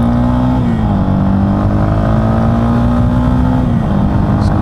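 A Yamaha XT250 motorcycle accelerates uphill in traffic, its loud close engine note holding a steady droning pitch with a slight dip and recovery as it pulls, wind rush underneath.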